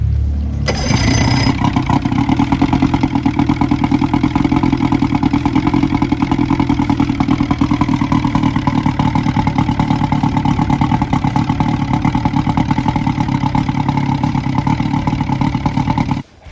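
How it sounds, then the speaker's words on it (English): A Johnson outboard boat motor under repair starts up and runs steadily for about fifteen seconds, a loud, even, rapid mechanical chug with a clattering edge, then cuts off abruptly. "So as you just saw there, the motor seemed to run pretty good."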